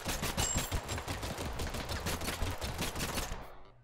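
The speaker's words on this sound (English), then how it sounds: "every time that you flip the gun sideways, you hear the guy beatboxing" In Totally Accurate Battle Simulator, a sideways-flipped gun makes a rapid, dense stream of rhythmic beatbox-like bursts, loud and continuous, fading out at the very end.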